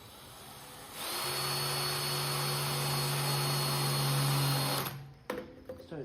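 A power drill bores a hole for a small side project, giving a steady, close whine for about four seconds that winds down into a few clicks and handling knocks.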